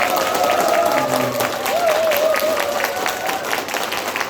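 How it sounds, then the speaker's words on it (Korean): An audience at a Democratic Party election rally in Gwanak applauds heartily, dense continuous clapping from a crowd with some cheering and a whistle-like tone riding over it, fading slightly toward the end. "다시 한번 힘찬 박수 부탁드립니다."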